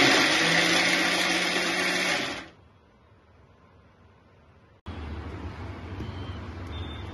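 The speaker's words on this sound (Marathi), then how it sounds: "त्याला 2 मिरच्या आणि 1 आल्याचा तुकडा किंवा 2 आल्याचे तुकडे हे घालून आपण ते मस्त मिक्सर करून घेतोय आधी" A kitchen mixer grinder whirs loudly at full speed grinding sprouted moong with green chillies and ginger, then stops abruptly into near silence before a brief, quieter second burst of whirring.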